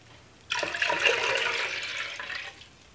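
Water poured for a pickling brine of 2.5 cups of water, honey and horseradish mustard, a steady splashing pour lasting about two seconds, close and fairly loud, then stopping.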